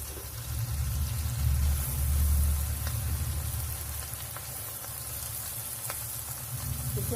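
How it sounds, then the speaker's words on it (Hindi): Macaroni frying in hot oil over medium heat, a steady broadband sizzle that stays loud and even throughout with no talk over it. "अब हम इसमें सारी मैक्रोनी को डाल देंगे।"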